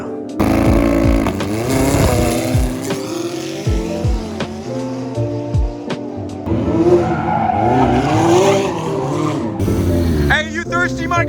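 A car doing circle wheelies on worn-out tires, its engine revving hard and tires squealing in long, loud, continuous screeches, with people shouting and talking over the noise.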